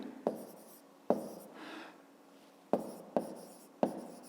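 Chalk or marker writing on a classroom board during a fifth-grade math lesson, sharp taps and short scratchy strokes in an uneven rhythm, close and quiet with no talking.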